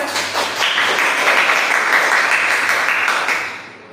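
Classroom applause during a microteaching session, a dense burst of many hands clapping together, steady for about three seconds before fading out, fairly close.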